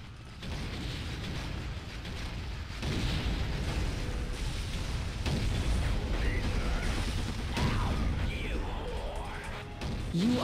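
Vehicle explosion in Unreal Tournament 2004, a heavy blast and crashing rumble followed by sustained mechanical clanking and creaking debris, loud and dense throughout.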